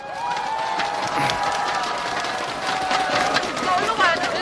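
A crowd at an outdoor election campaign rally in Daegu claps and cheers in a dense, steady wash of noise, with shouts and voices mixed through it.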